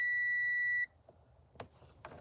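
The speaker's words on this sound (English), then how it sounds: "What is beeping? Oh, that's my multimeter." A multimeter gives one steady, loud electronic beep lasting just under a second during car wiring work, followed by quiet handling clicks.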